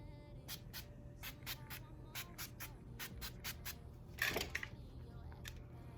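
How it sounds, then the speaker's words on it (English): A rapid series of short, crisp bursts of makeup setting spray hisses close by in quick rhythmic pumps, followed by one longer spritz. "I am gonna just do a little bit of a setting spray"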